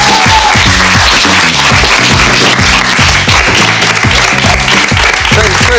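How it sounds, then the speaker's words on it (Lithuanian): A studio audience applauds in a loud, continuous burst of dense clapping that fills the whole stretch, close and unbroken, with a voice faintly underneath. "Palaukit, nu ko jūs plojat?"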